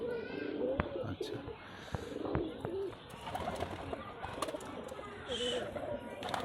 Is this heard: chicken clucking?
no